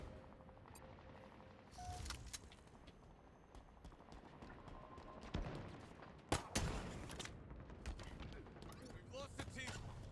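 Rapid bursts of gunfire from Halo multiplayer crack through a noisy mix, with sharp loud shots near the middle and end, layered over rumbling game effects and other busy activity.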